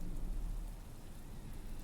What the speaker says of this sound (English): Rain all over the place.